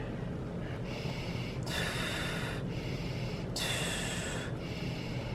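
Long, forceful breaths from a woman in labor during a contraction, two loud airy exhales standing out over steady background noise.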